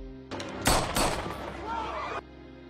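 Gunshots ring out in a film scene, a few sharp, loud cracks close together within a dense burst of noise that lasts about two seconds before dropping away.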